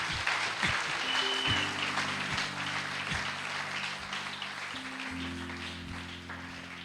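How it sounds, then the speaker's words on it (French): A church congregation applauds together in a steady, dense round of clapping, with a sustained musical tone droning low beneath it. "Il faut acclamer pour ce frère-là. Acclamer pour lui."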